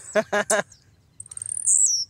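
A few quick voiced syllables, then a blue-black grassquit's thin, high chirps and a rising buzzy trill, close and fairly loud.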